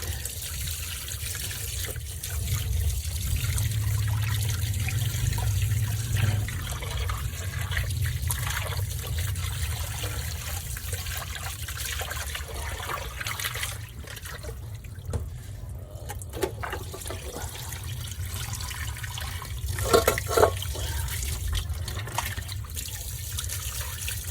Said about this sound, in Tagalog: spray na natin siya ng tubig